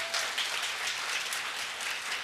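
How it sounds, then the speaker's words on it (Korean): A church congregation at a Christmas Sunday service claps together in continuous applause, a dense steady patter of many hands heard clearly throughout. "우리 주님께 영광의 박수 올려드리겠습니다"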